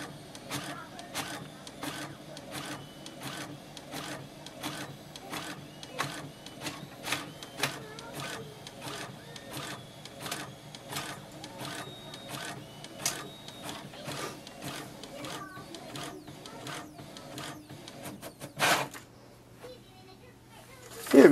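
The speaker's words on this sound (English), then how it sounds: "It also depends how much data you have sent, and just wait for the printer." A Brother MFC-J497DW inkjet printer runs steadily, its print head clicking and whirring in a fast repeating rhythm for most of the clip, then pausing before a final mechanical clunk.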